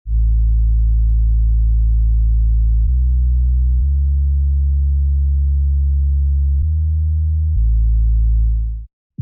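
A deep, smooth synth bass made in Serum from a basic waveform holds long low notes, shifting pitch a few times in a simple slow line before cutting off abruptly.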